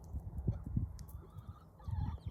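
Backyard chickens and pullets on a Midwest farm give a few soft, low clucks in quick bursts, faint and close, with no talking.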